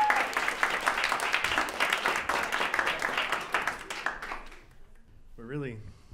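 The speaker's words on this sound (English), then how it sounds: "How about an enormous round of applause for Robert Scaramuccia?" Warm audience applause at a speaking event in New York City, steady and full for about four seconds before fading out, followed by a speaker's voice.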